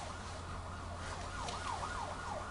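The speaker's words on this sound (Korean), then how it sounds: "이때 경찰의 사이렌 소리가 들립니다." A siren wails in repeated rising and falling sweeps over a steady low engine hum, fairly faint and distant.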